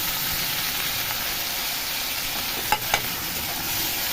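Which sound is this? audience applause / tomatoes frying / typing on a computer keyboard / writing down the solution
tomatoes frying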